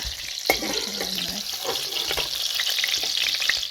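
Mushrooms fry in hot oil with a steady, bright sizzle, broken by a sharp clatter early on and occasional stirring scrapes. The sizzle is close and continuous, with no talking.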